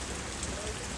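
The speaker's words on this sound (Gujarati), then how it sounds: "આ કેમ વરસાદ છે તો તમે જુઓ ખાલી તમે યાર કેટલો વરસાદ છે જુઓ" Steady rain falls in a dense, even hiss with faint scattered drops, continuous and fairly quiet throughout.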